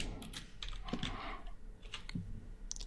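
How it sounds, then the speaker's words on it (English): Typing on a computer keyboard while writing HTML, soft quick key clicks in short irregular bursts, quiet and close, with no talking. "So that's all I'm typing in for now."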